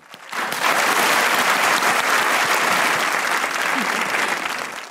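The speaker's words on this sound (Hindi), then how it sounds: "लड़कों के लिए वैसे तालियां।" A studio audience at a comedy talk show breaks into loud, sustained applause that starts abruptly and holds steady for several seconds.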